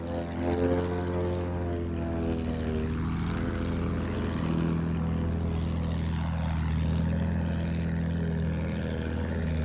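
An enemy propeller plane drones overhead in the video game Battlefield 1, a steady loud engine hum with strong harmonics, its pitch dipping twice as it passes.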